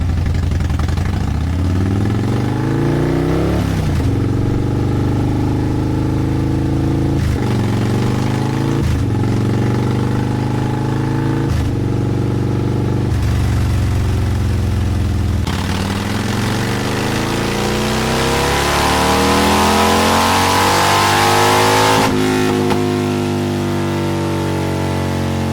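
A Harley-Davidson M8 motorcycle fitted with a Stage 2 S&S HTP496 engine runs on a dyno. It idles, then revs hard in repeated rising pulls, with brief dips between them, and builds to a long, loud wide-open sweep before dropping off.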